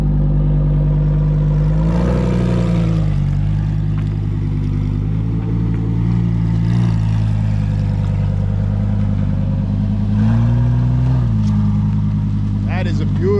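A 2024 Harley Davidson Road Glide motorcycle engine idling and running, a loud, steady low rumble throughout with slight pitch rises as it revs, heard close with faint talk in the background.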